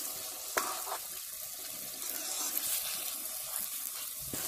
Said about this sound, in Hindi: तो ये देखिए लगभग आधा लीटर पानी हमने इसके अंदर डाल दिया है